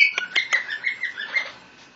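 Small pet bird giving a quick run of bright, high chirps and short warbling tweets close to the listener, loud at first and then tapering off, with no talk over it.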